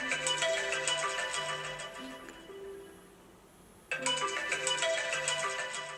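A Soundbrenner Core Steel smartwatch rings for an incoming phone call, its bright repeating electronic ringtone pattern playing loudly, pausing for about a second and a half, then resuming.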